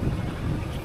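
Wind buffets a microphone on a fishing outing, a steady low rumbling roar of gusts with no speech.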